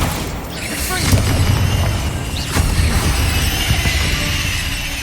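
Bombarda blasting spell from Hogwarts Legacy, a dull booming explosion in a dungeon setting, two rumbling bursts over a continuous low din with game sound and some voice underneath.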